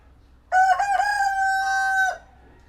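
A single rooster crows loudly and close by, one long sustained call lasting about a second and a half.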